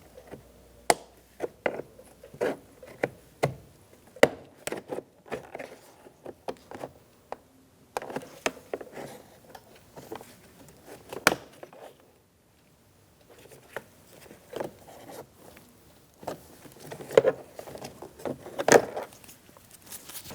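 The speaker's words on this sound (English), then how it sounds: "Just slide a trim tool in there and twist." Plastic interior trim on a 2012–2018 Ford front door being pried off with a trim tool, irregular sharp clicks, snaps and scrapes up close, with quiet gaps between bursts.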